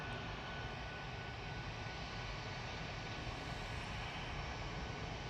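Steady jet roar from an airliner fitted with CFM LEAP-1B engines, heard at moderate distance, constant in level throughout and free of talk.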